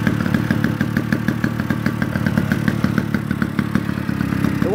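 A 1951 James Superlux 98cc autocycle with a Villiers engine runs steadily near at hand, its small single-cylinder engine putting out a rapid, even puttering beat with a light mechanical clatter, and no voices.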